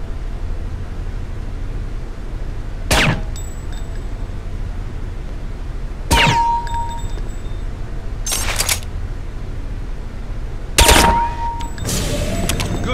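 Silenced gunshots at a Counter-Strike: Condition Zero training range as targets are engaged, with four sharp isolated bursts spaced a few seconds apart over a steady hiss of background noise.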